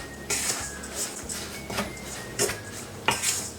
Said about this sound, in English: And then I'm just going to mix the ingredients first before adding the eggs and butter.